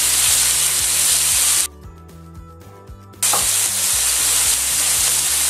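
Sliced chicken searing in a pan for chicken basquaise, a loud bright hissing sizzle over a regular low pulsing hum, cutting out for about a second and a half before returning just as strong.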